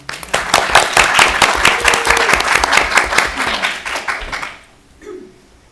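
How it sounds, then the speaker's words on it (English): A crowd at a League of Women Voters candidates night in Putnam County claps for a candidate. The brisk, dense applause lasts about four and a half seconds, then dies away, and a lone voice follows. "a little applause for Mark Pikowski."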